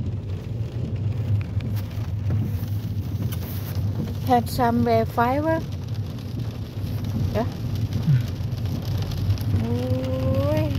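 Rain falls steadily on a street in Kreuztal, Germany, a constant broadband hiss running throughout, with people speaking and briefly singing over it.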